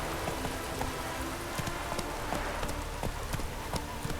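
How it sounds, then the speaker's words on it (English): Rain patters steadily in the game world of The Witcher 3 while a horse's hooves clop along underneath, the drops and hoofbeats mixing in a continuous outdoor texture. "Looked like it would rain, and here it is."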